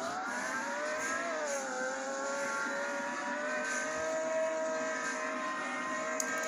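Simulated car engine in the Roblox game Greenville revs hard through rising and falling gear pitches during a launch and high-speed run, loud and steady with no talk.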